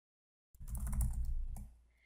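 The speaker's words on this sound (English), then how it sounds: "type in the word center between angled brackets" A brief burst of typing on a computer keyboard starts abruptly after a moment of silence, giving a soft, muffled run of keystrokes that fades out.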